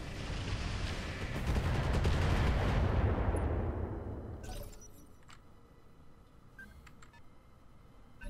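Weapons fire in the mech combat game Roguetech, heard as a loud, dense roaring barrage that swells, then fades after a few seconds into quieter sparse clicks and distant crackle.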